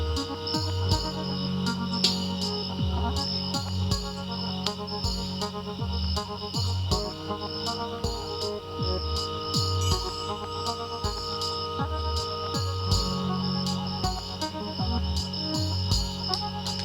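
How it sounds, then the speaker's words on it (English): A music track carries looped cricket chirps, steady repeating high pulses layered over droning tones and pulsing low notes, with no voices. "the sounds, the crickets, which also seem to be kind of looped"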